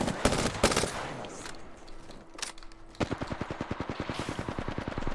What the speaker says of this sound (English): That guy's getting shot at from someone else.